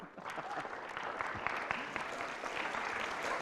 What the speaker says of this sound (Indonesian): Kita berikan tepuk tangan buat Pak Marzuki Ali